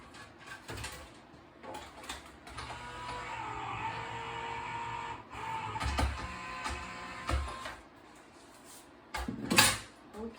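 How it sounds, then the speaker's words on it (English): A die-cutting machine runs thick card through its rollers in a steady mechanical grinding hum that lasts several seconds, with clicks and clunks from handling before and after the pass. "now I'm going to turn it upside down and run it through the machine"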